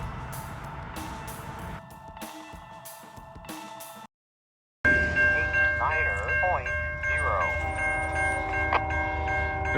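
A freight train rumbles past on Main Street (US 25) in Walton, Kentucky, loud and close, with a steady roar of rolling cars, a short dropout, then ringing tones from the passing train.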